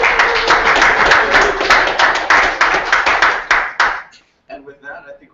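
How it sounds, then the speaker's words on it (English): Diners at a volunteer recognition dinner give a loud, close round of applause that lasts about four seconds and then stops abruptly, followed by a moment of quiet and then some talking and clatter. "one big round of applause for everybody"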